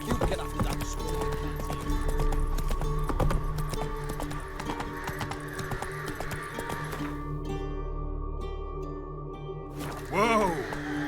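Hoofbeats of the horse Roach galloping in The Witcher 3, a steady rapid clip-clop running under game music and a voice talking, then a brief pause and a sharp vocal cry near the end.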